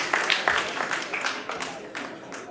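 Audience applause at a school quiz semifinal, a dense patter of many hands clapping steadily at close range, with a voice talking over it.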